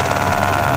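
A helicopter in the video game GTA San Andreas drones loudly and steadily with a rapid rotor chop and a dense engine roar, close and continuous without talk.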